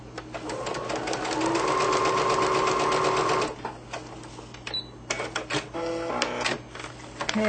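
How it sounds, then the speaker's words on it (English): A sewing machine stitches a paper-pieced quilt block with a white-on-white shamrock pattern, running in a fast steady whir for a few seconds, then a few short bursts and clicks, close by. "taking it over and sewing it"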